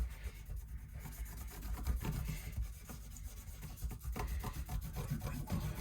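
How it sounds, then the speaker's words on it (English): Sandpaper scrubs back and forth over the fret edges of a Telecaster-style partscaster guitar in quick, steady strokes, faint and close with no voices. "if you rough it up with sandpaper, it makes it a little bit fuzzier"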